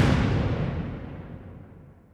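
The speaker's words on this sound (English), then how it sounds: "the reverb barely made a tick at all because the explosion wasn't very loud at all either" An explosion sound effect with reverb is played back in a game-audio mixing session. A single low, rumbling boom fades out over about two seconds at modest level, with no talking.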